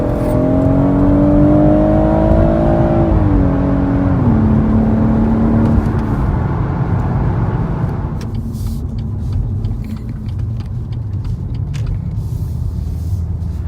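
A BMW M140i revs hard while driving, the engine note climbing and shifting through gears with a loud, close rumble, then settling into a steady lower drone with road noise.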